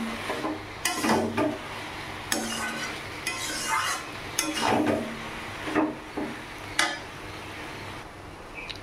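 A ladle stirs bottle gourd and prawn curry with sugar in a pan, giving repeated scraping strokes and sharp metallic clinks in an uneven rhythm, close and clear, with a faint sizzle underneath.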